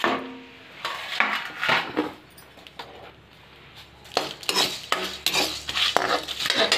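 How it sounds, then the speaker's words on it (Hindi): Bay leaves, cloves and black pepper dry roasting in a pan, stirred with a spoon that scrapes and clinks against the metal in uneven bursts, close by, with quieter pauses between, no talking. "थोड़ा तेज पत्ते और ये थोड़ी लौंग ली थी वो, थोड़ी काली मिर्च, इनको भी ड्राई रोस्ट कर लेंगे।"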